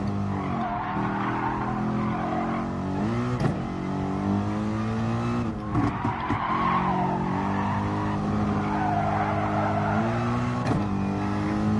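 A race car in a PS4 racing game brakes hard into a corner, its engine droning and dropping in pitch as the tires squeal and skid loudly, then it revs back up coming out of the turn.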